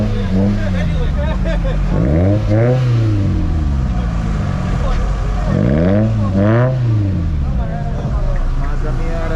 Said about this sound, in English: Mazda Miata.